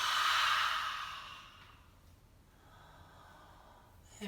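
A deep, breathy exhale is let out after a full held breath during a stretching and relaxation class. It is close and soft, starts strongly and fades away, with no talking.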